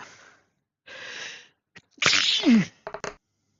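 A single loud, close sneeze bursts out after some faint rustling during a tabletop role-playing game, followed by a few short clattering knocks.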